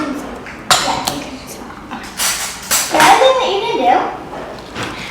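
Someone taps a bath bomb mold into a bowl while making bath bombs at home, producing several sharp, hard knocks spread across the moment. People talk throughout.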